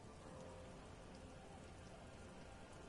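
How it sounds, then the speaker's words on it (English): Steady rain falling in a PS4 video game, a dense even hiss that keeps on without a break and fills the whole short stretch, with no voices. "She puts her hand in the rain."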